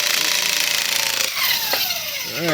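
Makita electric impact wrench loosening on a Jeep Grand Cherokee WK front differential bushing, a loud continuous rattling hammer close by that briefly drops and restarts.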